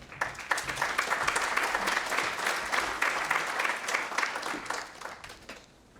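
A conference audience applauds the presenters at a plenary session on internet liberty, a dense, sustained wash of many hands clapping that fades near the end.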